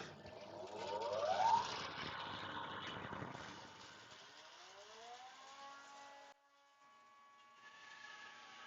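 A Sabre-350 bandsaw slices through a thick blank of wood meant for turning. The cut runs loud and rough for several seconds, then the blade noise eases into a steady whirring hum with a brief drop near the end.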